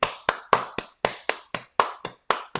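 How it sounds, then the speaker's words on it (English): Sharp hand claps ring out in a steady beat, about four per second, close and crisp with nothing else around them, like clapping along in time to a song. "Everybody clap your hand."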